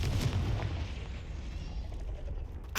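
A Confringo blasting spell explodes in Hogwarts Legacy, a loud close boom with a deep rumbling tail that holds for a few seconds before a sharp burst at the end.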